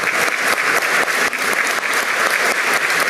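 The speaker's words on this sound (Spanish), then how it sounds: "Fuerte las palmas para nuestro general." A seated crowd gives loud, sustained applause for a retired general of Peru's National Police at a decoration ceremony in the Gran Comedor of the Palacio de Gobierno. The clapping is dense and even throughout.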